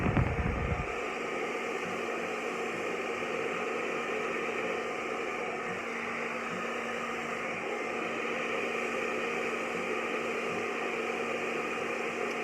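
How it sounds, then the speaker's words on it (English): A hair dryer blowing during a blow-dry, a constant loud whooshing hum with a steady motor whine, running alone without speech after a brief bump at the start. "brush underneath, and the dryer on top"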